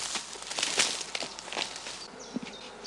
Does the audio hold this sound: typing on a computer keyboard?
no